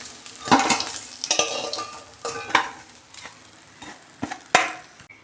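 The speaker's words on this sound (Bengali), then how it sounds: "দুটো ভেজেছি আর দুটো ভেজে নিচ্ছি" Fish heads frying with spices in a pan, with loud sizzling bursts and several spatula scrapes and knocks as they are turned, close and without talk.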